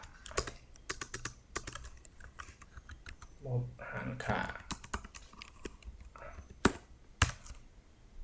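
Rapid, irregular clicks of a computer keyboard being typed on, fairly close and clear, with a short burst of voice partway through.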